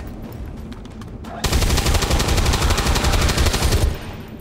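Gunfire in the turn-based strategy game XCOM 2, a loud sustained automatic burst of rapid shots lasting a few seconds after some lighter clicking, with a faint voice underneath.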